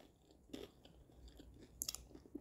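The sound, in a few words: biting and chewing crunchy fried chicken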